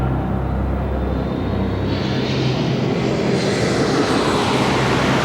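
A British Airways Concorde airliner roars loud and steady, a broad jet rumble shifting in tone as it passes, with no voices over it.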